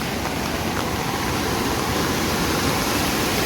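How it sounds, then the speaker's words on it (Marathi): A dense, steady roar of heavy monsoon rain in a Ratnagiri village pours down without pause, loud and close throughout. "आज सकाळपासून जोरदार पाऊस पडतो"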